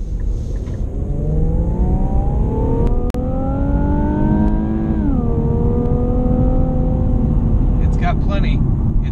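A 2017 Infiniti Q60 accelerates hard, its engine rising steadily in pitch through a long pull, briefly dipping on a gear change before climbing again, heard loud from inside the car.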